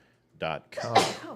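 A single sharp human sneeze in two quick bursts, a short intake followed by a louder explosive release, close and clear against near silence.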